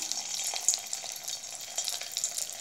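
Pieces of elephant foot yam fry in hot oil, giving a steady, close crackling sizzle with scattered sharper pops throughout.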